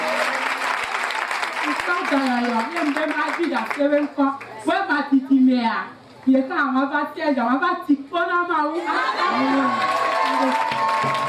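A congregation at a religious convention cheering and acclaiming in loud waves of voices and applause, with a preacher's amplified voice carrying over the crowd.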